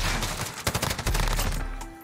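Encryption MK9 light machine gun firing in Modern Warfare, loud rapid bursts of automatic gunfire with a brief gap, then sustained shots trailing off.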